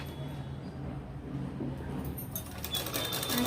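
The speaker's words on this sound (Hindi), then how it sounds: "अब हम सिलते जाएंगे और धीरे धीरे ये सिक्योर पिन को निकालते जाएंगे।" Sewing machine running steadily up close, stitching pearl lace onto a dupatta, a continuous fast whirring hum with slight shifts in pace near the end.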